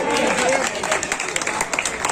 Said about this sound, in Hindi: तालियां बजाए भाई